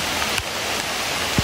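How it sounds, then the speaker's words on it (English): Steady rain falling outdoors during an archery deer hunt, a soft continuous hiss with a few sharper drops or taps, heard alone for a second and a half. "This is the second time I'm getting rained on."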